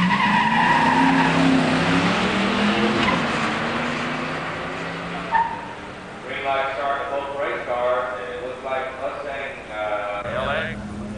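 Pure stock drag race between an 87 Mustang LX 302 HO 5-speed and a 77 Trans Am 400 automatic: engines roar and tires squeal at launch, then fade as a PA announcer talks over the track.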